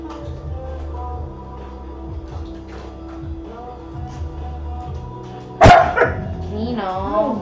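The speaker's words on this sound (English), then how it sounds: "whenever you bark, it peaks the mic" An indoor dog gives one sudden, very loud bark that overloads the microphone, followed by a brief whine, after several seconds of a quieter room with a voice in the background.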